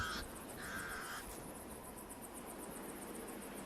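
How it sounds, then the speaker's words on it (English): Harsh alarm calls of pied crows ring out in a short burst near the start, then stop, leaving a steady buzz of insects and faint desert ambience. "The pied crows sound the alarm again."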